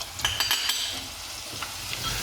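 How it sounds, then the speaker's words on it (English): Steady hiss of garlic sizzling in hot oil after squid frying, with a few light scraping stirs and utensil clicks against the pan, close and clear. "they're like sizzling, and they're just going to become little garlic crisps"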